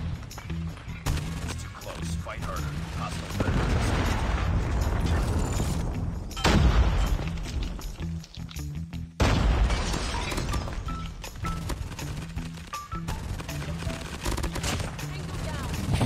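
Rapid Type 25 rifle fire in Call of Duty Mobile, sustained automatic bursts with booming impacts and a short break, while players talk over the shooting.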